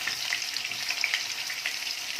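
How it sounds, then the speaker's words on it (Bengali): Potato pieces fry in hot oil for a Bengali chicken kosha, a dense, close crackling sizzle that stays steady throughout with no talk. "আলুগুলো লাল করে ভাজা হয়ে গেছে"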